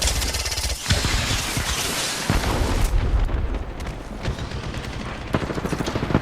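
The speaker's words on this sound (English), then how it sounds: "He's fucking beaming them with charge rifle" Sustained energy-weapon gunfire from a charge rifle in an online shooter game, dense and loud throughout with sharp blasts and impacts layered over constant battle noise.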